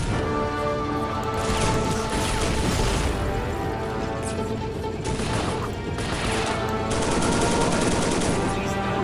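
Dense, continuous gunfire in Soldiers: Heroes of World War 2, a World War II battle game, with rapid volleys and crashes layered over a loud, busy battlefield soundscape that never lets up.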